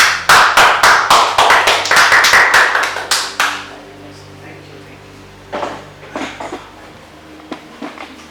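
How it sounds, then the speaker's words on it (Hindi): A church congregation claps for its pastor at a Sunday service, a quick run of sharp, fairly close handclaps that stops after about three seconds, leaving scattered knocks and faint room sounds. "उसके लिए तालियों से उसको स्वीकार करें।"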